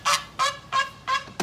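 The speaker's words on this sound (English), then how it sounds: "There's the goose." A goose honks five times in an even, repeating rhythm, each call loud, nasal and fairly close, recorded beside a river during sockeye fishing on the Stikine River.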